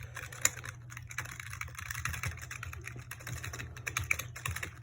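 Steady typing on a Rii RK100 mechanical-feel gaming keyboard, a dense run of quick, soft key clicks and taps at close range with a low hum beneath and no voices.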